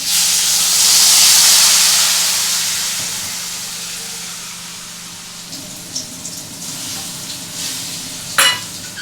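Water poured into a hot pan of stirred vegetables, drumsticks, potatoes and beans, sends up a loud, close hissing burst of steam that fades to a low simmer, followed by a few faint clinks and a brief sharp knock.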